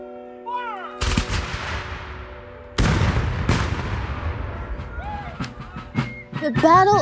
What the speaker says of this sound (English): Cannon crew, load.